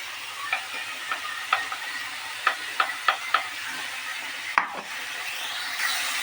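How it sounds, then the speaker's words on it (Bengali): Pointed gourd stuffing with turmeric being stirred in a frying pan, a low steady sizzle under a series of rhythmic scraping and tapping strokes from a spatula, with one louder knock near the end. "হলুদ দিয়ে এটাকে এভাবে নেড়ে নিতে হবে"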